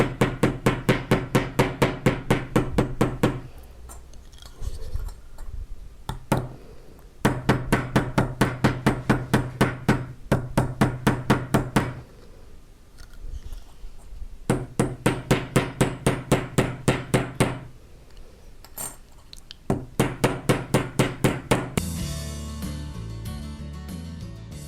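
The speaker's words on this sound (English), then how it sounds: "So we're done riveting" Rivets on a folded flower pendant are struck with a small hammer in rapid, evenly spaced taps, grouped in bursts of a few seconds separated by short pauses, close and crisp.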